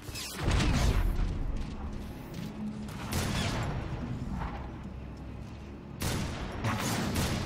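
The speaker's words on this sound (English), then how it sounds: "Even Megatron's having a hard time there with the fusion cannon's blast radius." Fusion cannon fire in the Transformers War for Cybertron video game: heavy, continuous blasts and booming gunfire that stay loud and dense throughout, swelling again near the end.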